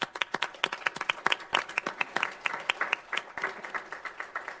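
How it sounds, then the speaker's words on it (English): Applause at a city council meeting, a small group clapping with sharp, distinct individual claps in an irregular patter that stays fairly close and moderately loud throughout, no voices on top. "So round of applause."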